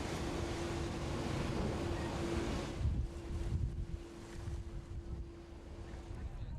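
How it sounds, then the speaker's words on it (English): A hydrofoil boat heads from Sicily's Tyrrhenian coast toward the Aeolian Islands, with a steady roar of engine, wind and rushing water throughout and a constant hum underneath. "On the Tyrrhenian coast, we embark upon a hydrofoil for the Aeolian Islands."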